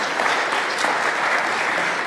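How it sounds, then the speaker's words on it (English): An audience at a formal diplomatic gathering breaks into sustained, even applause, with dense clapping filling the room and no speech over it. "I would like us to give them a round of applause for those remarks"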